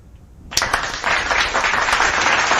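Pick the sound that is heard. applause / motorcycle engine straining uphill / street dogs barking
applause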